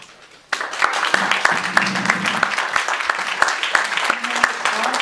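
Audience applause at a 2011 League of Women Voters election forum for Board of Selectmen candidates starts suddenly and keeps up as dense, steady clapping, with a voice briefly audible underneath.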